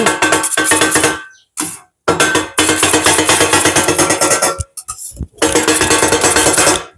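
Chicken kothu being chopped in a pan with metal blades: rapid, loud clattering bursts of steel striking steel, broken by a few short pauses.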